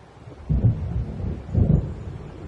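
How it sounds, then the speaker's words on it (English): Thunder rolling in ahead of a coming storm in Alan Wake Remastered, two deep, heavy rumbles about a second apart, loud and close, fading into a low lingering growl with no voices. "It seems there's a storm coming."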